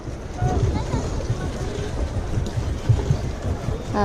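A boat putters along a lake at Mount Abu, Rajasthan, its low engine thrum pulsing beneath gusts of wind buffeting the microphone.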